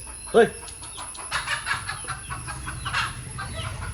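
A chicken gives a sharp nearby cluck at the start, followed by faint, scattered bird sounds under a person talking.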